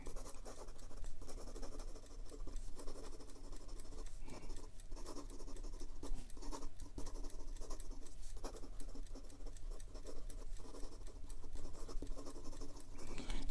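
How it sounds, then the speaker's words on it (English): A 1965 Parker 61 capillary-filler fountain pen with a dry nib scratches quickly across paper, a steady close, faint patter of rapid strokes with no talking. "And some quick writing."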